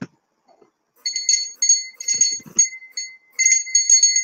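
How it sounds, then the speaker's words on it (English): A bright metallic hand bell rings in several short bursts with brief gaps between them, loud and close, following a moment of near silence. "Let me ring a bell."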